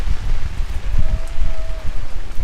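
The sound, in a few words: rain falling at outdoor gathering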